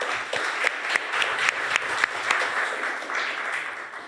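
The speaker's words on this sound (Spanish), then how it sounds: "Un aplauso." An audience at a presentation about work in the Enacar archive bunker applauds steadily, the dense crowd clapping close and sustained across the whole stretch, with no speech over it.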